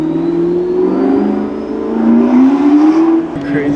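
A McLaren supercar's engine revs and pulls away outside a dealership, a loud, close, smooth rising whine that climbs steadily in pitch across a few seconds.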